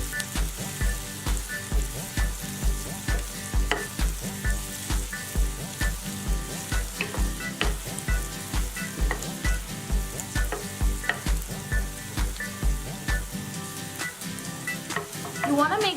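Onions sizzling and frying in a pan for South Indian vegetable kurma, stirred with a steady rhythmic scraping over a continuous loud crackle.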